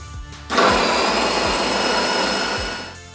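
Onions, about a kilogram, are chopped finely in a kitchen blender for chebureki meat filling. The motor whirs loudly and steadily for almost three seconds, its pitch barely changing, after a short quieter start.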